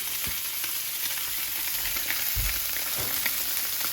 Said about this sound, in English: Now we're going to add the broccoli. We're going to cook this with the sausage for 2 more minutes.